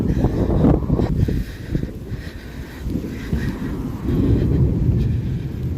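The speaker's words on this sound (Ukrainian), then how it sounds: "Ого, як гримить." Thunder rumbles during a storm on a narrow road in Ireland, a deep, rolling low roar that swells and fades across the whole stretch, with gusty wind buffeting the microphone.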